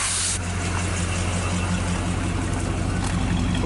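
A 1965 Chevrolet engine idles steadily after its first start in years, a continuous low rumble with a faint exhaust rattle, close and fairly loud, with no talking over it.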